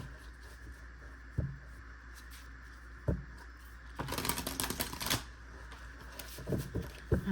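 Tarot cards are shuffled close by, a riffling burst of crisp paper flutter after a few soft taps, then light handling sounds.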